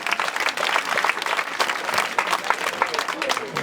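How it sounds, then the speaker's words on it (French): Audience at a school gift-giving ceremony in a France–Senegal solidarity event bursts into loud, dense clapping that holds steady throughout, with a few voices mixed in. "il faut applaudir ça, hein, il faut applaudir."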